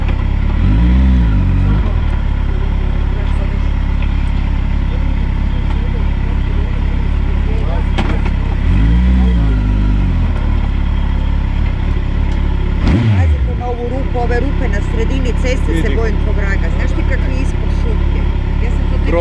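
A heavy motorcycle engine runs nearby, rising in three short revving bursts over a low rumble while people keep talking throughout.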